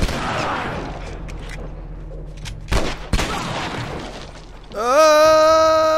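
Gunshots in The Last of Us, two sharp loud blasts a moment apart amid tense ambient noise, followed by a rising tonal musical sting.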